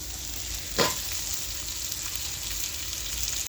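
Jackfruit and potato with spices sautéing in a pan give a steady, close sizzle, with one brief scraping stir near the start and no voices.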